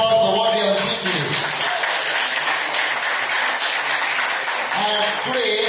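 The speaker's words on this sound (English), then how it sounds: "Let us all give a big round of applause for what we have achieved today." Audience applause at an office inauguration for a new head office, a loud, dense wash of clapping that carries steadily from start to finish with no break.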